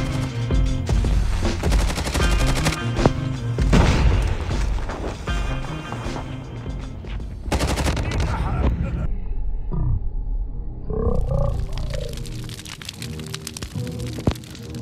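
Gunfire in the mobile video game COD Mobile comes as dense, loud bursts of rapid shooting that are heavy and continuous for several seconds, then break off into sparser shots and game effects.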